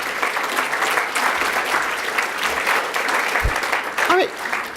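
Sustained applause from a large audience at a charity launch event, steady and dense throughout with a slight swell near the end, a brief voice cutting through the clapping.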